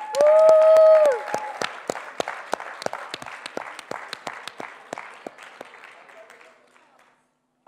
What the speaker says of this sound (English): Ladies and gentlemen, can we give them a round of applause,